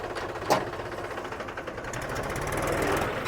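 A tractor engine runs while driving, a steady low chugging rumble with a faint rattling rhythm, close and continuous with no talk.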